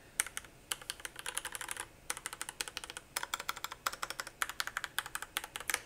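Fingers type in quick bursts on a James Donkey RS6 mechanical keyboard with a 96-key layout, giving crisp, close clicks and clacks with short pauses between runs.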